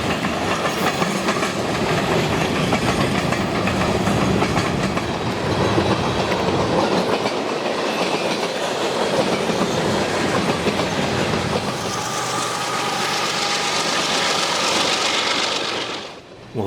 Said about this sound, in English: a second UP freight heading the other direction caught me off guard